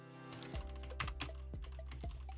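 Soft keystrokes on a computer keyboard tap out a short burst of typing over a steady low electrical hum, quiet and close.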